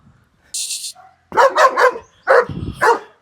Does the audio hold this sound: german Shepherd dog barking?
yes